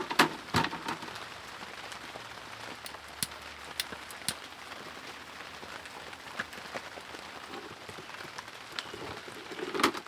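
Rain patters steadily on a plastic tarp shelter, a dense hiss of drops with occasional louder close taps, no voices.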